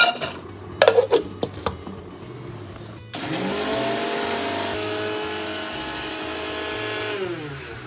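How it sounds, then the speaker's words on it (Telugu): A mixer grinder grinds roasted coriander seeds, cinnamon and cloves. A few sharp kitchen clinks come first, then the motor starts abruptly with a loud, steady, whining roar that runs to the end. "చెక్క, లవంగాలు మిక్సీ పట్టుకుందామండి"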